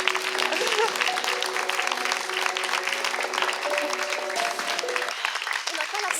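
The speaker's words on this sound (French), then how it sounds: "on applaudit bien fort" A studio audience at a game-show quiz applauds loudly and continuously, and a voice speaks briefly over the clapping.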